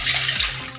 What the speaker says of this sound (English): Next, we can pour in our oat milk